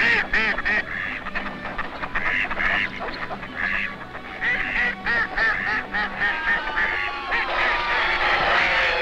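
Several ducks quack repeatedly in overlapping bursts, loud and nearby, with a busy, chattering rhythm throughout.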